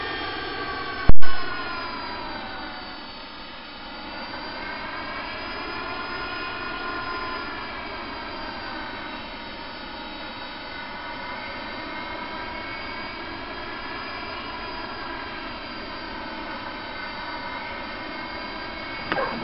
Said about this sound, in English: You're cleared to take off runway 16.